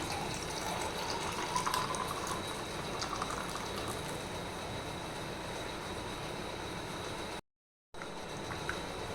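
Grape juice is poured into a glass already holding two ice cubes, making a soft, continuous liquid trickle and splash that runs for several seconds at low volume, with a brief cut to silence near the end.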